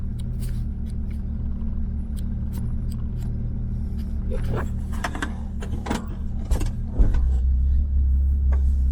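Low steady rumble of a Datsun 240Z with an L28 engine and electronic ignition coil, idling then pulling away, with scattered clicks and handling noises before the engine note swells near the end.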